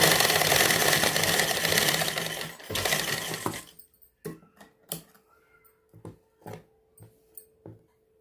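A sewing machine stitching a cross-style blouse runs in a loud continuous whirring burst for several seconds, then switches to short separate clicks and thumps spaced about half a second apart, close up.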